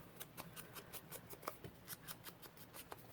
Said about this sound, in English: Oops, I sure need to snip the thread off too.